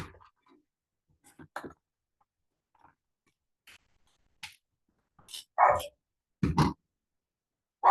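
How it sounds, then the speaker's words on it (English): Several dachshunds bark in scattered bursts, a few sharp yaps early on building to louder, closer barks near the end. "wiener dogs are barking"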